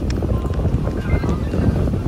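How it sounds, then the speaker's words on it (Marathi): Steady wind rumbling against the microphone on open water, on a sea trip from Mumbai to Alibaug, loud and continuous, with faint boat noise underneath and no clear speech. "छान गार वारा सुटलाय असा मस्त"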